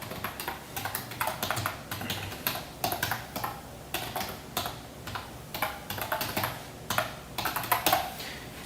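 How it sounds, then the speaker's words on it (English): Typing on a computer keyboard, close and clear, with uneven bursts of rapid key clicks and short pauses running steadily throughout. "let me type it in the chat."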